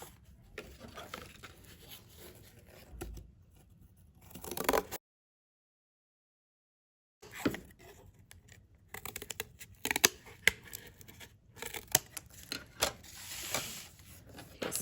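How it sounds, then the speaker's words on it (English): Cardboard being cut into a letter A shape, heard as scattered scraping, snipping and rustling bursts up close, with a short silent gap partway through. "Okay, then I'm going to cut it out."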